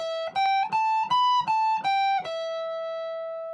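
Electric guitar notes picked one after another on a single string, rising in pitch then falling back, the last note ringing out and sustaining.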